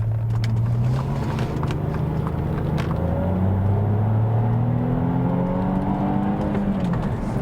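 A stock Saab 9-3 Aero sedan engine pulls steadily while driving, a smooth, fairly quiet hum with rising tones as it accelerates through the gears, continuous and close with no talking.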